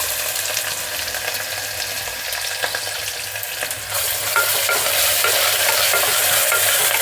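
Sliced onions and ginger-garlic paste fry in hot oil for a mutton curry, a steady close sizzle broken by repeated scraping stirs that swells louder in the second half, with no voices.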